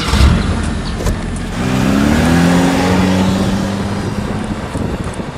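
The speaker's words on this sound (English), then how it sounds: "Our gypsy accelerated and was running fast to Xylo" A Gypsy safari jeep on a dirt track in Tadoba tiger reserve revs up and accelerates, its engine rising into a steady nearby roar with rough rumbling underneath.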